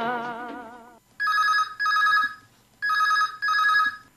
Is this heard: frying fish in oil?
no